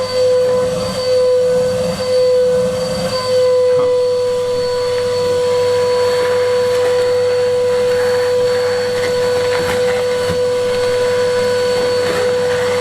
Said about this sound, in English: Right, I'll get this vacuumed.